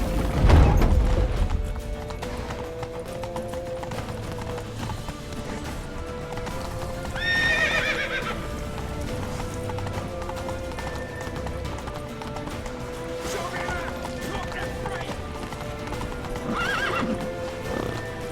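Hooves clip-clop at a fast gallop while horses neigh sharply a few times, layered over a steady background in the video game The Witcher 3: Wild Hunt.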